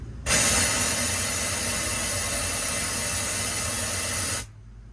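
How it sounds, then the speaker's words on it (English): A steady, loud hiss of air being blown into a tank of a machine whose engine won't start, starting abruptly, holding constant for about four seconds, then cutting off. "I'll blow the air into the tank"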